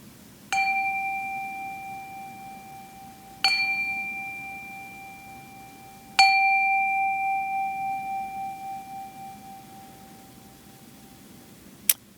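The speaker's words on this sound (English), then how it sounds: "let us pause to bring ourselves fully into this moment with the ringing of our chime" A bright chime rings three times at a Unitarian Universalist Sunday service, with long sustained decays, spaced a few seconds apart, then a short faint tap at the end over a quiet background.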